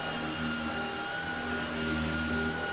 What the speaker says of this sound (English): I'm going to have to very carefully vacuum this off without ripping it apart anymore.